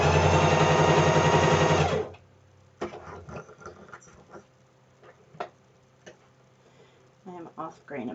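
A sewing machine stitches a seam at a 3/8 allowance with the needle positioned for a small garment. It runs loud and steady for about two seconds, then stops, followed by scattered clicks and handling noises and a brief voice near the end.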